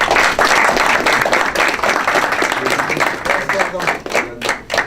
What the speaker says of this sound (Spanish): Yo les pido, con todo respeto, que recibamos al maestro, al doctor Morales con un aplauso y lo escuchemos, por favor.